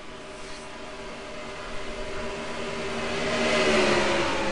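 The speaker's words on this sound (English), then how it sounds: "Alright, engine's fired up." A race car engine idling and revving at Pocono in a convertible series race, a steady mid-pitched whirring drone that swells gradually louder toward the end, with no voices.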